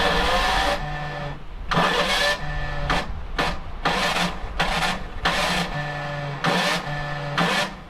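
A van's starter motor cranks repeatedly in bursts separated by short pauses, loud and close, with a grinding, rasping whir that never catches into a running engine.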